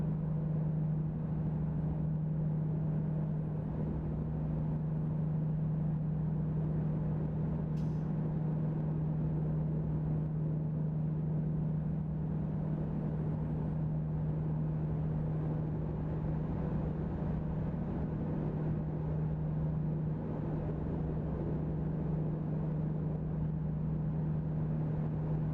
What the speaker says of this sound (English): listen to the road and the sound of the truck.